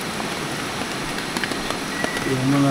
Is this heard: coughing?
no